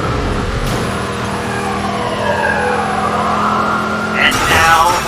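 Car engine revving in the video game Watch Dogs 2, a steady droning engine under game music and a voice, rising toward a louder burst near the end.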